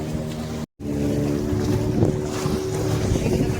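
A boat crossing rough sea on a three-hour trip, a steady engine drone mixed with wind buffeting and splashing waves, briefly cut out near the start, otherwise continuous and close.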